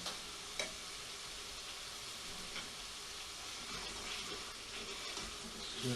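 Gravy for a restaurant-style chicken pathia bubbling and caramelising in a pan as it is stirred, a faint steady sizzle and burble with a couple of soft scraping knocks, low and continuous with no talking.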